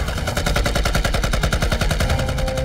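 Rapid, sustained machine gun fire in a Chinese anti-Japanese war sniper film, a dense loud rattle of evenly spaced shots running unbroken throughout with no talk.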